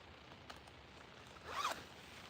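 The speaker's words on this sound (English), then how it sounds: "When a zipper gets stuck, it gets scary because it's like it could break" A stuck clothing zipper is tugged, a faint scrape followed by one short rasping zip as it pulls free, quiet and close with no talking.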